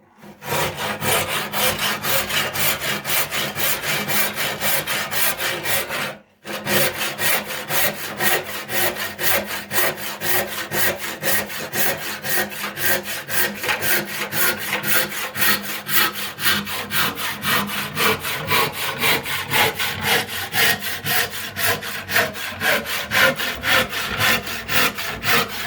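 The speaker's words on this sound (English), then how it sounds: "now I'll take my panel saw and I'll just rip down." A hand panel saw rips down a wooden board with steady, rhythmic rasping strokes, loud and close, pausing briefly once, while the pitch and timbre shift gradually as the cut progresses; no talking.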